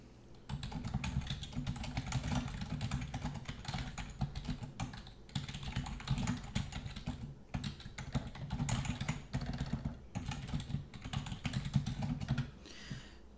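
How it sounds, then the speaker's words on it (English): Rapid, continuous clatter of keys on a computer keyboard as a message is typed, close and fairly quiet, coming in bursts with brief pauses and no talking. "I'm going to just type a message here"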